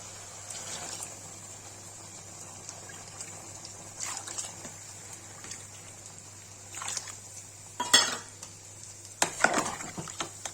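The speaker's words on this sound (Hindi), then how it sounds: "गरम मसाला भून जाएगा तो इसको पानी डाल देंगे इसमें।" Water is poured into a pan of frying potato and bean curry seasoned with garam masala, giving soft trickling and splashing against a faint steady hum, then a few sharper clinks and sizzling bursts near the end.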